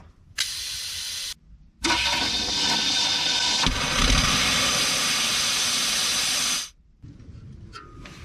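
Compressed air from an air tank hooked to the fuel line of an abandoned 1972 Plymouth Fury blasts through in loud, close hissing bursts: a short puff, then a longer sustained rush that stops abruptly, followed by a quieter hiss.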